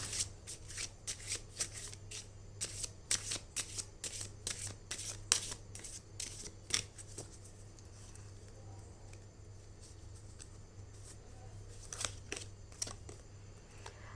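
Tarot cards being shuffled and drawn by hand, a rapid run of crisp riffling clicks and slaps, then a quiet pause and a few more card snaps, close and soft.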